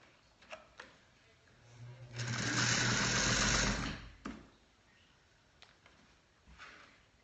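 An older sewing machine runs one short, loud burst of stitching on a tulle skirt, about two seconds long, between quieter handling clicks and rustles.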